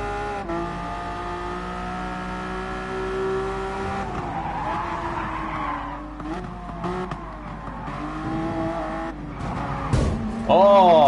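In Gran Turismo Sport on the PS4, a race car engine whines and shifts pitch as it revs, with tires squealing and skidding through the run and a sharper burst near the end, while someone talks over it.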